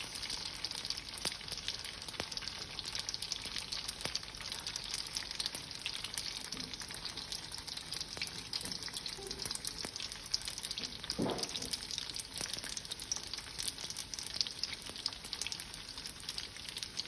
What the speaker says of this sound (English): They don't actually take that long to fry.